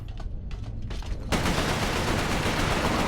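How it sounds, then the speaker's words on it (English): Shotgun gunfire in the video game Resistance: Fall of Man, a loud blast cutting in abruptly after quieter game ambience and then ringing out as a dense, sustained roar. "I think you actually need to use the shotgun to detonate that barrel"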